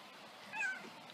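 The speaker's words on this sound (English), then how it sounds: "He meowed back." A cat gives one short, soft meow, heard close by but faint against a quiet room.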